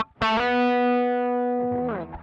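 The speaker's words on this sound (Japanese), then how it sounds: "これが SD1 通すことによって、ドライブが増える" An electric guitar driven through a BOSS SD-1 Super Overdrive pedal rings out a thick, sustained distorted chord lasting about two seconds before being cut off.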